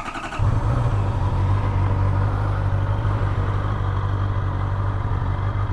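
Honda CB650R E-Clutch motorcycle settles into a steady low idle while warming up at night, a close, even rumble that holds constant after a brief start at the beginning, with no talk over it.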